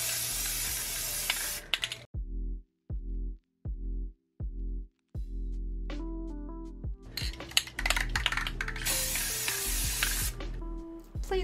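Crystal clear coat sprayed from an aerosol can onto art print stickers: a long hissing burst, then several short spaced puffs, ending with more longer hissing sprays close to the can.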